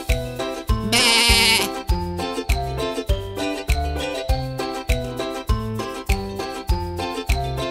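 A sheep gives one short bleat early on, mixed into a bright children's melody with a steady thumping beat and tinkling bells that carries on to the end.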